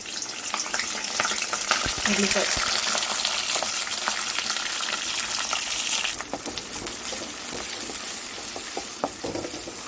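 Curry leaves crackle and sizzle loudly in hot oil in a pan for a home-style curry, a dense steady frying hiss with sharp pops and occasional stirring scrapes, close up throughout.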